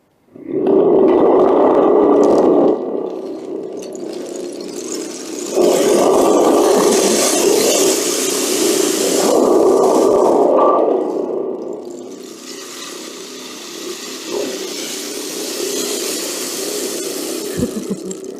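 A rushing, roaring wash of noise swells and recedes in several long waves, like rain and rumbling thunder produced by an instrument.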